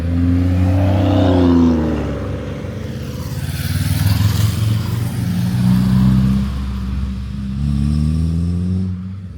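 A Subaru Forester rolls past at an evening car meet in the UK, its engine note rising and falling with a steady low hum and a brief throttle swell as it passes fairly close.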